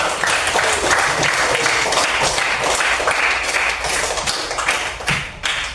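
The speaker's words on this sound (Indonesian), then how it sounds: "Tepuk tangan." Steady applause from a group, many hands clapping together continuously for several seconds, fairly loud and close.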